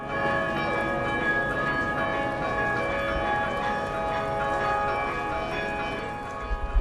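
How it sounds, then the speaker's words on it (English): Church bells ringing continuously, overlapping metallic tones blending into a dense, shimmering wash of sound at moderate volume. "You don't hear those bells very often."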